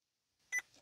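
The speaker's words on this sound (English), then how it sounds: "There's the beep" A Vauxhall Corsa D dashboard gives a single short, clear beep confirming a saved setting in the secret menu, isolated against near silence.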